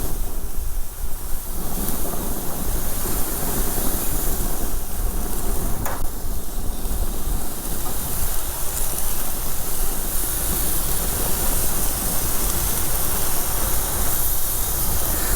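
Very thin slices of pork sizzling on a grill heated to around 400 to 500 degrees, a loud, steady, close hiss and crackle of fat that continues unbroken throughout.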